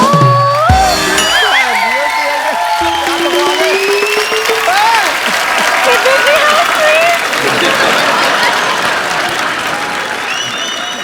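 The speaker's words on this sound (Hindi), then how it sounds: "ठोको ताली।" A television comedy show's studio audience breaks into loud, sustained applause with cheers and whoops, while voices and music carry over the clapping.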